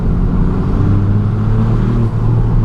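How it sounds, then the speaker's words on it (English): Loud, close engine drone of a 2019 Mk8 Ford Fiesta ST driven on twisty roads with the windows down, a steady throaty hum carrying turbo whine with a brief dip near the end. "You can actually really hear the turbo noises with the windows down."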